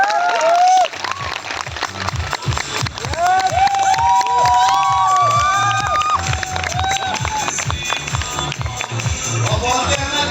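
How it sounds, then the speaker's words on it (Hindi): An audience at an awards gathering in India claps loudly in rhythm and cheers, the beat-driven clapping continuing alongside lively music with warbling melodic tones. "एक बार जोरदार तालियां मार दीजिएगा"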